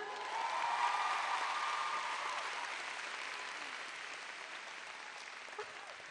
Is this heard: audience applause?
yes